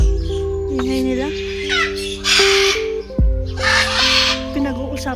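Birds at a zoo give loud squawking calls and harsh caws, repeated several times close by, over a steady hum, with people talking throughout.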